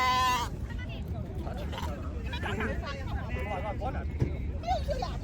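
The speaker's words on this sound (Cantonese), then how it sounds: "啲羊仔咧一見到啲奶咧就即刻衝埋嚟咧" Young lambs bleat in a noisy pen on the Inner Mongolian grassland as they rush toward milk, their calls rising repeatedly from a busy crowd of animals while people talk nearby.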